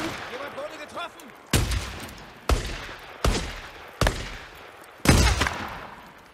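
Five loud gunshots ring out at roughly even intervals in the video game Days Gone, each a sharp blast with a decaying tail, after a stretch of talk at the start.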